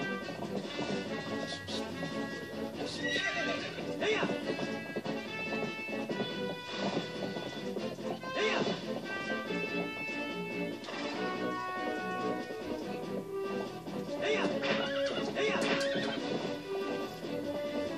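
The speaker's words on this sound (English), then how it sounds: "Pony is the best horse." In Zelda Twilight Princess, a horse whinnies repeatedly over galloping hooves and a rumbling, stormy backdrop of game music and effects, all loud and continuous.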